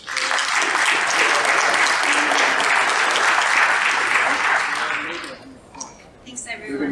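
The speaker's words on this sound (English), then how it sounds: "So I wanted to give everyone a quick round of applause" A room of attendees gives everyone a quick round of applause at a program's closing remarks, loud steady clapping that stops abruptly after about five seconds, followed by a few stray sounds.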